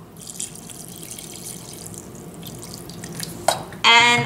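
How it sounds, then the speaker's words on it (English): Bleach poured onto a shirt soaking in a container: soft dripping and liquid trickling at a steady low level, then a short splash and a louder closing gush of pouring near the end. "I'm just gonna pour some more bleach in here to top it off."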